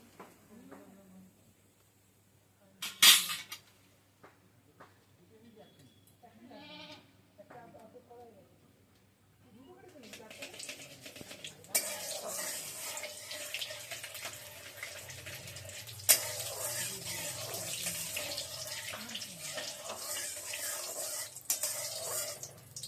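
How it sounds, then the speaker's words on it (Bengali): White cumin seeds hit hot oil in a pan for a vegetarian mukhi kochu dum, sizzling and crackling steadily and fairly close for the second half after a quieter start, with someone talking over it. "তেলটা গরম হয়ে এসছে, আমি একটু সাদা জিরে দিয়ে দেবো।"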